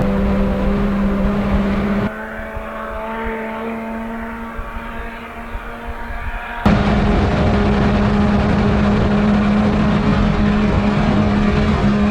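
Car engine with a new Hurricane intercooler pulling hard on a final test pass, a loud sustained drone with a steady tone that drops briefly mid-run, then returns louder and holds.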